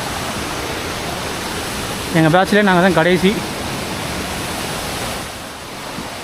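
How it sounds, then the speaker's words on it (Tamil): Steady broadband roar of a waterfall pouring on the Agasthiyamalai (Agasthyakoodam) trek, continuous throughout, with a brief stretch of people talking over it partway through. "அருவி கொட்டுதுங்க குளிக்கலாம் முடியாது குற்றாலம் மாதிரி இருக்குது"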